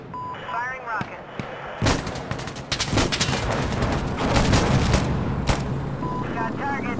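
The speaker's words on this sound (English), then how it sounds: "Firing rockets." A rocket launcher fires in the video game Insurgency Sandstorm. Sharp blasts and booming explosions stack up over rumbling battle noise, with crackling gunfire around them and faint radio voices at the start and end.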